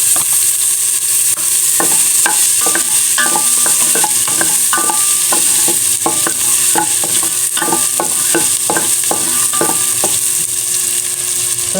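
Garlic sautéing in a pan for pork dinuguan: a steady loud sizzle runs throughout, broken by repeated sharp scrapes and clinks of a spatula stirring against the pan, with no voices.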